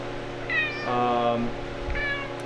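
A cat meows in a truck shop, one long drawn-out meow followed by a shorter one, close and clear over a low shop hum, with a person talking briefly.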